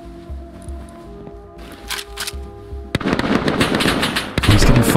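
AK rifle fire in the survival game Rust, loud bursts of rapid shots that kick in partway through and keep rolling with dense crackling over steady background game noise.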